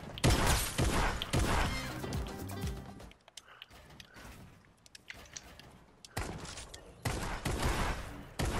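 Gunfire in a video game: dense, loud bursts of shots at the start, a quieter lull in the middle, then another heavy volley near the end, with no talking.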